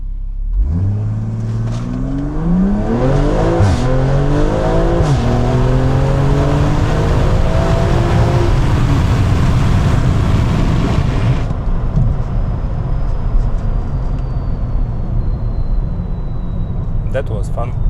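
A BMW M340i accelerates hard on a mountain road, its engine rising through several gears in loud, continuous sweeps before settling into a steady drone, with a faint high whine near the end.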